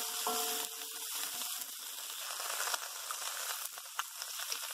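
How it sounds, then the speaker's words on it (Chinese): Gai choy leaves and Chinese sausage sizzle and crackle steadily as they are quickly stir-fried with sugar in a hot wok, a continuous frying hiss with small scraping bursts from tossing. "再快手兜炒一下"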